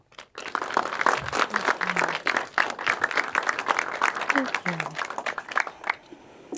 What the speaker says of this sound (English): I want to give her a round of applause and welcome her to the stage